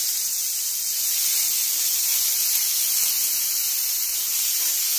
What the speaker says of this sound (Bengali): সেদ্ধ করা লাউ ও আলু সেদ্ধ করা ছিল, সেটাকে এবারে ভেজে নিচ্ছি কড়াতে।